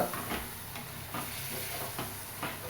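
Milk being stirred bit by bit into mango pulp semolina sheera in a pan, giving soft scraping strokes at a steady rhythm over a faint sizzle, close and fairly quiet.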